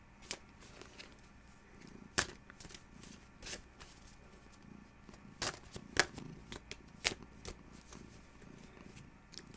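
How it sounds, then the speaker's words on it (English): Tarot of Dreams cards are shuffled by hand, giving soft riffling and sharp snapping flicks in irregular bursts, close but quiet over faint background. "Are you watching me shuffle cards?"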